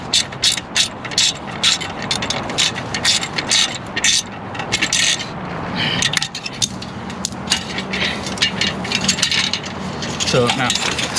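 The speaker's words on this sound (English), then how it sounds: "you go ahead and tighten those, and I will tighten this one right here" A ratchet tightens the bolts on a Vance & Hines Hi-Output slip-on exhaust on a Harley-Davidson Street 750. Close, rapid bursts of clicking repeat throughout with brief pauses between strokes.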